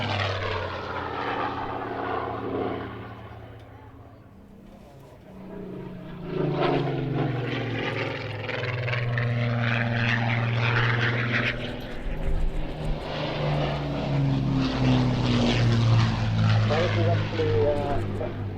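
A propeller aircraft with Merlin engines drones overhead at the Waddington airshow, a loud sustained engine roar that dips and swells as it passes, with someone talking over it throughout.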